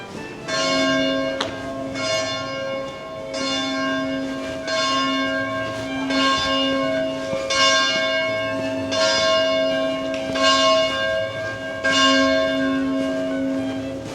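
Church bells peal steadily on a quiet residential street in London, overlapping strikes ringing out in a continuous rhythmic sequence, fairly close and loud with no voices.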